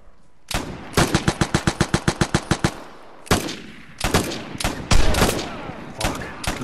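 Machine gun fire in the video game Vigor, a loud close burst of about a dozen rapid evenly spaced shots, followed after a pause by several heavier, more ragged bursts.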